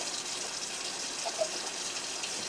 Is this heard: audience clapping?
no